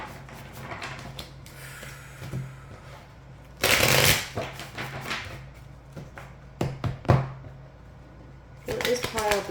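Tarot cards shuffled repeatedly at close range, with rapid papery riffles and sharp slaps; a voice talks quietly under parts of the shuffling.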